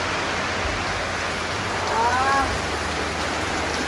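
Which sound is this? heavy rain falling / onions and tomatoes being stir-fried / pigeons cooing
heavy rain falling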